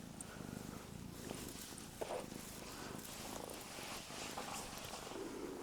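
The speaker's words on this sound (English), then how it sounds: "Look at my cat, G." A pet kitten purring close up, a soft steady rumbling purr running throughout with slight shifts as it breathes.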